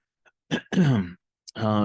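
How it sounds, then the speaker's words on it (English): One person clears their throat in two short rasping bursts, then briefly starts to speak. "Carol finally broke their sustained silence by clearing her throat."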